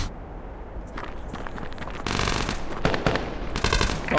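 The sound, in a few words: gunfire in the VR video game Tactical Assault VR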